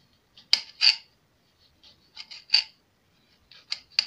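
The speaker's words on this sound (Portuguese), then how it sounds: "Aí o pimentão vocês podem cortar as tirinhas assim, ó." Knife cutting bell pepper into strips on a board: sharp separate chops in small pairs and clusters with quiet gaps between, close and clear, no talking.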